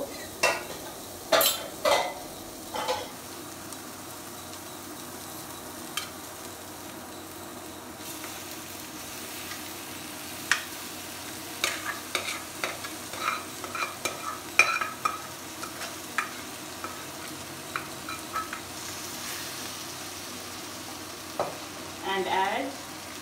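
Dal sizzles frying in a pan with repeated scraping and stirring clicks of a spoon, steady and close, with no talking.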